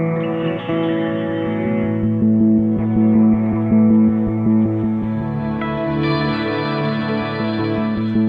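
Sustained electric guitar chords run through Strymon Iridium, Strymon Deco and Empress Reverb pedals wash out through heavy reverb and delay, with swelling echoing tails and no voices.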